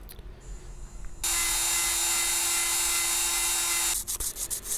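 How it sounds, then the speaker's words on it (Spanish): A metal lock pick with a printed circuit board handle being rubbed on very fine sandpaper, a steady, close, hissing scrape lasting a few seconds, then a few short strokes at the end. "Termino con una lija muy fina."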